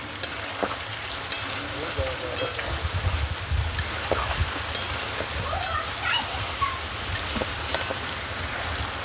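Chicken and potatoes sautéed in a pan for a light curry, a steady sizzling fry with scraping stirs and occasional clinks from a utensil, close and continuous throughout.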